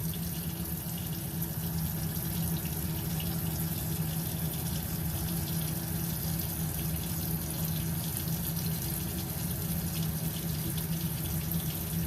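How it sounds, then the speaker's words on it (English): Steady running tap water rinses off a Body Shop face mask at a sink, a continuous even rush and splash lasting throughout with no talking. "So now we're going to rinse it off."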